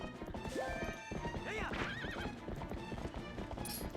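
A horse gallops with rapid clip-clop hoofbeats and lets out whinnies in Zelda: Twilight Princess, with game music and effects mixed in, moderately loud throughout.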